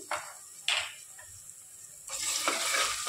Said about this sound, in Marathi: कांदा छान फ्राय झालाय, त्याच्यात एक छोटा चमचा आलं लसणाची पेस्ट घालते मी